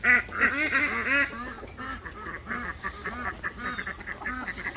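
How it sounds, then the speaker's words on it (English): Young ducks quack busily in a dense, overlapping chorus, close by and fairly loud, with no talking. "These young ducks in here."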